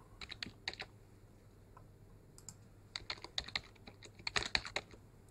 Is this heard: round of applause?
no